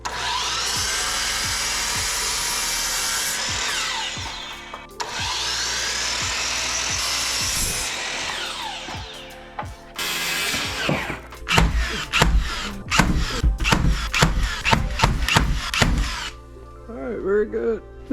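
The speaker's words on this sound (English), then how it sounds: "cut a 2x4 to put on the back side of this" A power saw cuts through a 2x4 board with a loud, sustained whine in two long passes, followed by rapid sharp knocks and clatter, with someone talking throughout.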